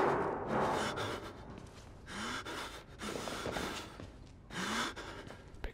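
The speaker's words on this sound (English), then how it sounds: "This guy breathing is kind of freaking me out too" A character in the horror game Outlast breathes heavily and raggedly, with repeated gasping inhales and snorting exhales at an uneven rhythm, fairly close and with nothing else heard.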